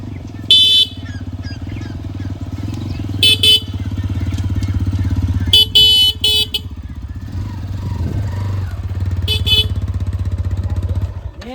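A motorcycle engine idles and runs with a steady low rumble throughout, while several sharp horn honks from passing traffic sound over it.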